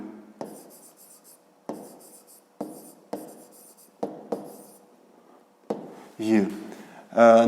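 Chalk or pen strokes scratch across a board during a fifth-grade math lesson, coming in short repeated bursts with pauses between them, and a nearby voice briefly talks at the end.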